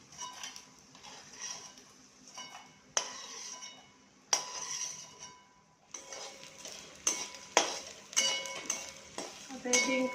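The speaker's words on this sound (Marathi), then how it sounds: "आता हे डिंक तळून घेतलं होतं राहिलेलं" Edible gum for gond laddoos frying in a pan, a light sizzle broken by intermittent clinks and scrapes of a utensil against metal, with soft background voices.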